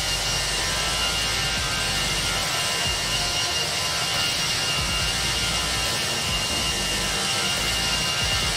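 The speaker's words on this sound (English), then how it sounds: "These new engine sounds are a huge improvement." Airbus A319 jet engines in the X-Plane 11 flight simulator give off a loud, continuous roar and whine with a steady rumbling low end, heard alone without talk.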